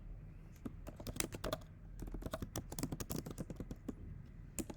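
Python code typed on a computer keyboard in a fast, continuous run of crisp, close keystrokes with brief pauses, and no talk.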